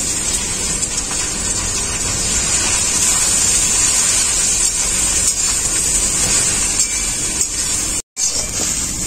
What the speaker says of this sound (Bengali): এখন আমি দিয়ে দেবো সেদ্ধ করা কুচুরি শাকটা